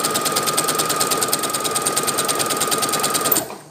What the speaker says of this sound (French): je vais commencer par un point d'arrêt, comme ceci, hop, et commencer à coudre à 1 cm